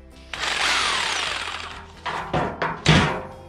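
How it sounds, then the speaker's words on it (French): A pop rivet is set into a metal reinforcement on a converted lift table, a sustained harsh mechanical burst followed by several short sharp clacks, close and loud. "Là j'ai un renfort, comme là la rampe va s'appuyer là, je vais mettre un rivet pop ici"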